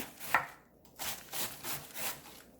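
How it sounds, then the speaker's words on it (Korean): A knife shreds cabbage on a cutting board in a few distinct crisp strokes, each slicing burst separated by brief pauses, close and fairly quiet. "그리고 양배추를 채 썰어 줍니다."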